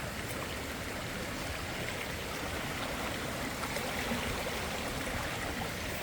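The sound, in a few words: storm water flowing from flooded pond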